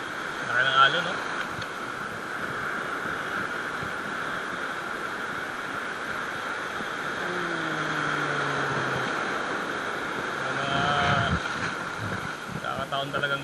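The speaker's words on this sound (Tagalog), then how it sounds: "Laki ng alon, no?" Ocean surf breaks steadily along a shoreline during fishing at moderate tide, with wind rumbling across the microphone and someone speaking briefly over the wash of the waves.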